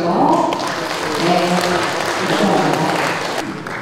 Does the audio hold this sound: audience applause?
yes